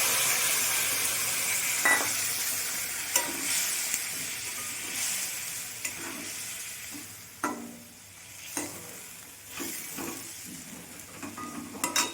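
Mustard paste hitting hot oil in a pan with fish for a Bengali katla curry, a steady close sizzle and hiss with intermittent stirring scrapes and clinks, no voices.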